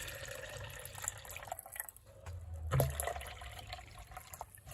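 Liquid fertilizer for indoor plants, half of a 1-litre can, is poured into 2 litres of water and stirred. There is a soft, steady sloshing of liquid with one brief louder swell midway.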